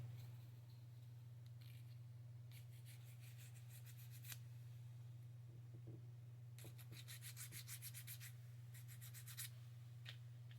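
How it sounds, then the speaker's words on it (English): Plastic part from a Trumpeter 1/32 scale F6F-5N Hellcat model kit is sanded by hand in several short bursts of rapid scratchy strokes, faint and close, over a steady low electrical hum. "Maybe give this one a little bit of a sanding job right there."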